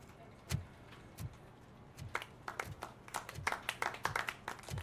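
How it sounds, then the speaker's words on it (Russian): Sparse, thin hand claps in the video game RoboCop: Rogue City that grow into light scattered applause from a small group, with a faint background hum. "Что-то слабенькие аплодисменты, ребят."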